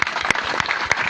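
Audience clapping at an outdoor political gathering in Pakistan, with bursts of scattered hand claps rising and falling briefly over a steady crowd murmur.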